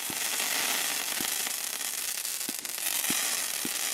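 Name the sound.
Aldi firework cake shots with crackle effect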